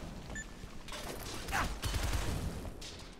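Gunfire in the video game Shadow Complex, a burst of rapid shots around the middle followed by steady mechanical game noise, fairly loud with no talk over it.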